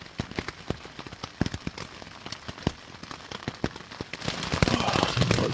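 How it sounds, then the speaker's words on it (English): Heavy rain drumming on a leaking camping tent by a river, dense irregular pattering of drops close overhead that thickens into a steadier downpour toward the end, with a brief spoken remark. "Oh, it's heavy rain. And I'm getting rained on. So the tent is leaking"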